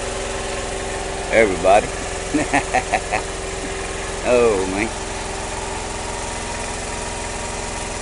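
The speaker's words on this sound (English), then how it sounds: "All that noise you hear running, that's my auxiliary power, I guess you could call it." An auxiliary power engine idles steadily as a continuous low drone throughout, with someone speaking briefly over it.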